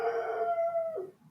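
A dog lets out one brief howl, a steady mournful tone that bends downward and fades after about a second, close by in a quiet room.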